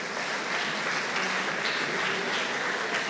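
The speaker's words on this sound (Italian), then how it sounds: "un applauso al Valle 2015" Even, continuous applause from a crowd at an outdoor-style sports festival, moderately distant and fairly soft, holding a steady wash of claps.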